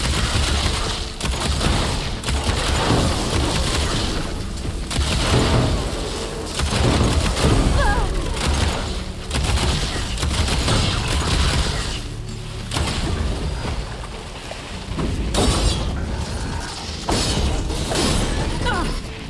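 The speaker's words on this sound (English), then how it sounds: "Could fire that machine with shock ammo." Shock ammo is fired at a robotic machine in Horizon Forbidden West. A dense, continuous battle din of crackling zaps, booms and clattering impacts runs throughout, loud and close, with no speech.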